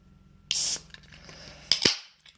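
A bottle of The Bruery Cherry Pie Bourbon Barrel Imperial Stout, 10.2%, is opened with a sharp hissing pop of released gas, followed moments later by a second crisp burst of fizz and clinking, close and clear.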